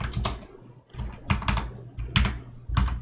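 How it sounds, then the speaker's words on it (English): Close computer keyboard typing with a few distinct clustered key presses, including pressing enter, each a sharp clack over a low steady hum. "We can press enter because we typed in the IP address wrong."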